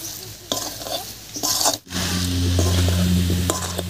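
Coconut, sugar and milk mixture for Bengali tokti cooks in a pan, giving a steady close sizzle with stirring and scraping strokes, one brief pause, then continuous bubbling hiss.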